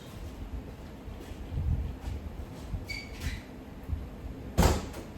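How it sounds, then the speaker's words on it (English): A door slides or swings open with soft scraping and thuds, a faint squeak midway and a sharper knock toward the end, in a quiet, smoky room. "Open up the door."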